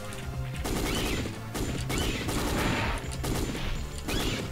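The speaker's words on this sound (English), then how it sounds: "heavy machine gun is the best weapon for these guys" Heavy machine gun firing at dinosaurs in Dino Crisis 2, long loud sustained bursts of rapid fire broken by short pauses, close and dominant.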